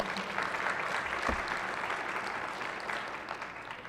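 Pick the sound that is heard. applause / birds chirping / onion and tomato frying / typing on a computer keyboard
applause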